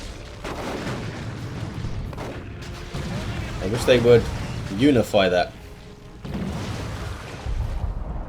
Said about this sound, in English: these guys' Psy Cannons sound very differently, Interceptors. They sound like the old Psy Cannons.